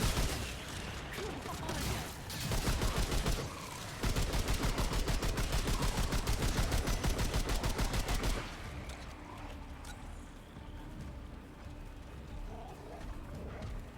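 Dense, sustained gunfire from many players at once in the video game Remnant II, rapid overlapping shots in a loud continuous barrage for about eight seconds, then dropping to a quieter, scattered battle din.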